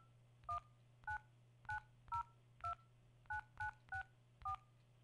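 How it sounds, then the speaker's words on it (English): A telephone keypad dials a number on a prepaid calling service: nine separate DTMF tone beeps in an uneven rhythm, each short and clear, over a low steady hum. "Please enter the number you wish to dial."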